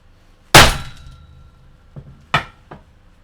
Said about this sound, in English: I hit it on the socket and a dim slot clip flew off, even.